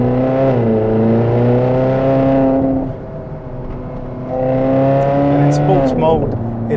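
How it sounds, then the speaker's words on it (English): Ferrari California with a 4.3 V8 under a hardtop accelerates hard, engine and exhaust climbing through the revs, dropping on a gear change, then rising again with loud, close harmonic growl. "to really get a bit of a grunt out of the exhaust system, you've got to put your foot down"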